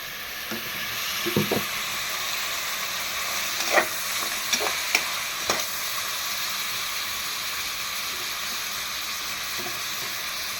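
Mutton pieces sautéing in oil for a home-style mutton kuzhambu, a steady close sizzle with a few sharp scraping stirs of a spoon against the pan near the start.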